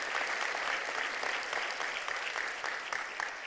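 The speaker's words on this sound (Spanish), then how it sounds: "Dele un aplauso al Señor" A church congregation claps in sustained, even applause during a sermon, a steady wash of many hands at moderate distance with no voice on top.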